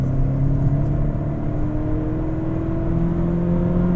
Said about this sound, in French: On va voir un petit peu comment le moteur s'élance en mode dynamique